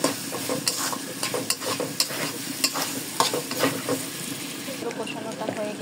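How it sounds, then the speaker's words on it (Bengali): Potatoes are stirred and sautéed in a pan with fermented dried fish paste, giving a busy sizzle with quick repeated scrapes and clatters of a spatula close by. "আলুটাও ভালোভাবে কষে নিতে হবে।"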